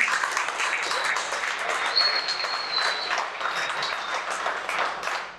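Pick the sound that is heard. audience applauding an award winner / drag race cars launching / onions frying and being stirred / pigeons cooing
audience applauding an award winner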